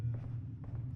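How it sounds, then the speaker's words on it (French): Two soft, muffled footsteps from an interactive film game fall over a low background hum. "Bruit de pas."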